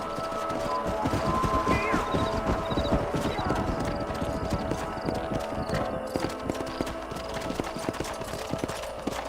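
Horses walking in Red Dead Redemption, hooves clip-clopping in a steady, close rhythm over a busy game soundscape, with a brief whinny in the first seconds.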